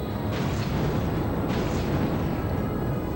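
Bounce bomb explosions in Monster Hunter Tri, two muffled blasts about a second apart rising over a steady low rumble, followed by the rumble carrying on.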